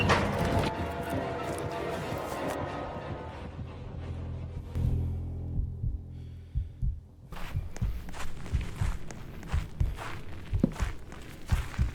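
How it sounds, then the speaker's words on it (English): Running footsteps of a man chasing in the horror game Fears to Fathom, heavy thudding steps in a quick irregular rhythm over a dense, throbbing game soundtrack, fading briefly mid-way before the steps return louder and closer. "We hear his footsteps run behind us as we sprint for our lives"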